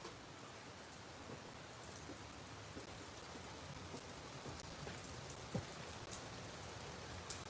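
Rain falls outside as a faint, steady hiss of drops on surfaces, with a few slightly louder drips scattered through.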